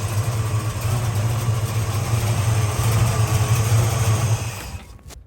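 A 1966 Chevelle's 454 big block V8 idles steadily with a deep, rumbling low throb for several seconds, then cuts off abruptly near the end.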